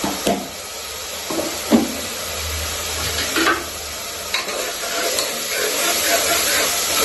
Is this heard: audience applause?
no